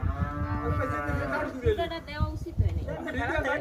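Cattle being loaded for sale from a farm low and moo repeatedly amid shouting and chatter from handlers nearby, the calls rising over a busy background of voices.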